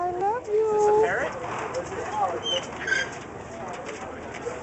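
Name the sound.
pet parrot calling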